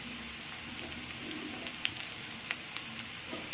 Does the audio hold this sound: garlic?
yes